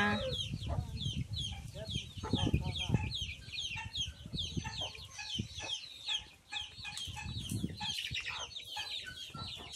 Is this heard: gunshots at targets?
no